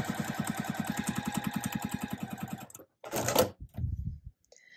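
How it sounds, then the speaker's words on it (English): A sewing machine stitches fabric for a pinwheel star quilt block, running in a steady rapid chatter for a few seconds before stopping, followed by a few brief handling clunks and rustles. "So I'm sewing straight from the top corner all the way down to this corner."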